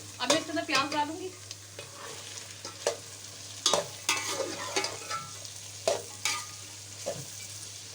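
Sliced onions added to hot oil with lightly browned bitter gourd seeds, being stirred in a pan in a home kitchen for karela keema; a steady sizzle runs throughout with repeated scraping stirs of a spoon against the pan, close and moderately loud.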